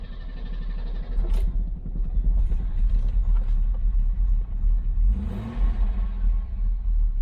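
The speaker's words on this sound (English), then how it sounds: "I'm going to start the car." A Mercedes-Benz 230SL engine starts and rumbles low and steady, with a brief rising rev partway through before it settles back into a deep idle.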